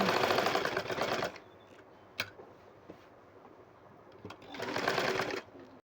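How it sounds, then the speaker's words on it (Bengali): An electric sewing machine stitches the side seam of a frilled burqa in loud close bursts of rapid whirring at the start and again near the end, with a quieter pause between holding a few fabric-handling clicks. "এখন আমি সাইডের অংশটা সেলাই করে নেব"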